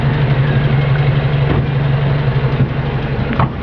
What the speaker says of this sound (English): Have another listen to the engine here.